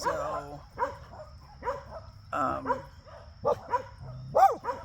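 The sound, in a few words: dog barking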